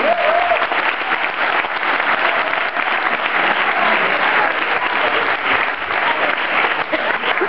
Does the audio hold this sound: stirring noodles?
no